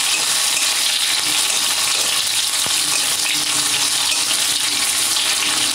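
Onion and tomato fry in a pan for a fish and potato curry, a steady close sizzle and hiss running without a break, with faint stirring.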